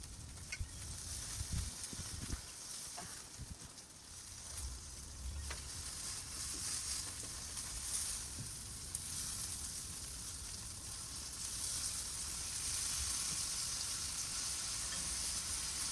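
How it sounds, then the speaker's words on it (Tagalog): Barbecue sizzling on a grill at a simple birthday gathering, a steady broadband hiss and crackle that holds for the whole stretch, with scattered low knocks and fire-like pops underneath. "Barbecue."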